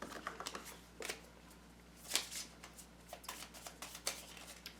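A deck of game cards shuffled during a Kingdom Death: Monster board game session, a quick run of papery riffles and slides in uneven bursts, close and fairly quiet, with no talking.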